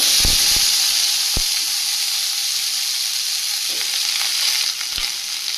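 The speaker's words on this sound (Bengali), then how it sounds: "এবার দিয়ে দেবো শিম আর আলুটা" Sliced beans and potato hit hot oil spiced with dried chillies and five-spice, giving a loud, steady hiss of frying close up, broken by a few knocks of stirring.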